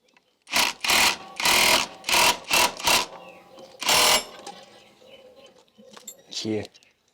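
An impact wrench loosens the clutch bowl nut on a 2018–2023 Honda Click 125i, firing several loud, close rattling bursts in quick succession, followed by quieter tool handling.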